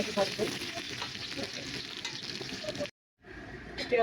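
Bay leaves fry in hot oil for a Bengali mutton curry with potatoes and pointed gourd, giving a steady close sizzle that cuts out briefly and then resumes.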